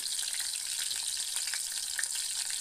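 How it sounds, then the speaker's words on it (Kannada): Bitter gourd fries in hot oil in a pan, giving a soft, continuous crackling sizzle with small pops, steady and close, with no talking. "ನೋಡ್ಬೋದು ನಮ್ಮದು ಹಾಗಲಕಾಯಿಯನ್ನು ನಾವು ಫ್ರೈ ಮಾಡ್ತಾ ಇದ್ದೇವೆ"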